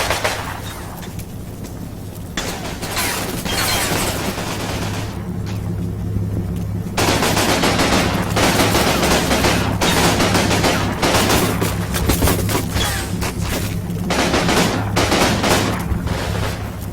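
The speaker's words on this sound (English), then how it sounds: "Well, I know what the assault gun will blast away next." Sustained battlefield gunfire from a World War II assault gun and small arms, with dense bursts, booms and rattling shots rolling on loudly and continuously without a pause.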